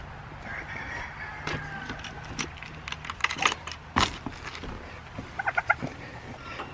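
Turkeys on a farm, with scattered close gobbles and clucking calls, sharp clicks and pecking taps, and a low steady hum underneath, with no one talking.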